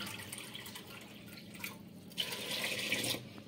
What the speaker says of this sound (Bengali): এখন আমি জল দিয়ে দিচ্ছি এই বাটিতে মেপে 5 বাটি জল।